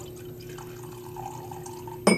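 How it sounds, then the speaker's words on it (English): Bourbon pours from a bottle into a glass in a quiet indoor setting, a soft thin trickle and drip that ends with a brief louder splash or clink, with no talk. "So I'm just going to actually go ahead and just pour a little bit"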